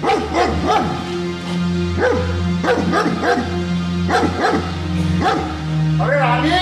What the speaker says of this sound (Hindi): अरे देखो जरा वो कुत्ता क्यों भौंक